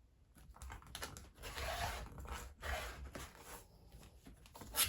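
Brown accent fabric being cut gives soft, quiet, crisp crunching strokes in short uneven bursts, close by with pauses between them.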